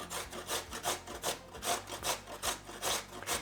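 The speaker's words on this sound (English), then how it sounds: "I'm going to grate my raw peeled potato with my box" A raw peeled potato scrapes rhythmically down a box grater in quick, even strokes, about three per second, close and clear with no talk.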